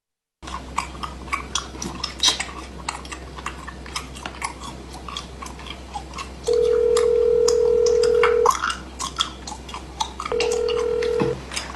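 A phone call is placed and two long ringback tones sound through the handset after rustling and handling noises, the second ring cut short.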